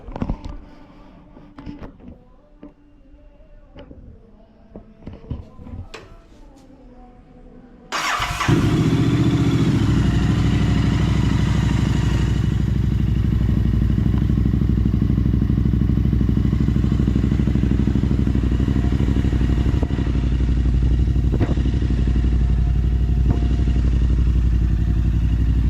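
A Royal Enfield Interceptor 650 fitted with a BMC air filter cranks and fires up after a few seconds of light clatter and clicks. The engine then settles into a loud, steady, close idle that runs on unbroken.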